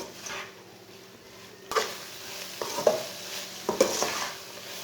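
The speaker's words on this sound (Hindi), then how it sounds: "अब इसे 3 मिनट के लिए भून लेंगे।" Chana dal and spinach are stir-fried in a pan over medium heat, with a few scraping spoon strokes and soft clatters over a faint, quiet sizzle.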